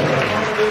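A church congregation applauding to acclaim the Lord, a dense, steady wash of many hands clapping close by, very brief.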